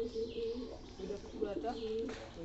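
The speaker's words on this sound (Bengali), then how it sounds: "এই 5টা কবুতর আসছে এখানে।" Several pigeons cooing near a coconut tree as the flock gathers, soft rolling coos repeating over a low background, with a voice murmuring faintly underneath.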